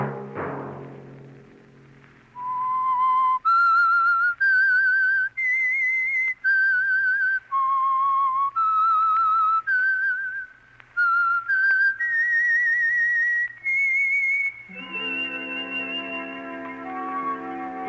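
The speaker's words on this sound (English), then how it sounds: "Let that whistle be your signal for the Signal Oil program" A clear, melodic whistled tune, loud and close, with long held notes gliding between pitches, ending as a brief orchestral chord swells in; the signature whistle of an old-time radio program.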